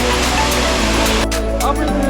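Seven Sisters Waterfall in Meghalaya gives off a constant, loud rushing roar of falling water that fills the scene without a break, with people's voices briefly audible over it.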